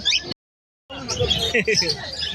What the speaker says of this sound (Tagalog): Check natin yung mga dala niya ibon.